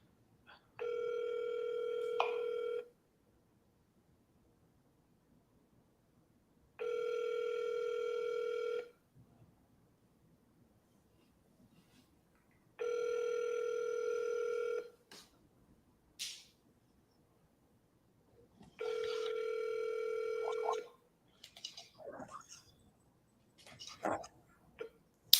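An unanswered telephone rings four times, each long electronic burst about two seconds with a steady pause between, heard alone and fairly faint; a voice murmurs briefly near the end.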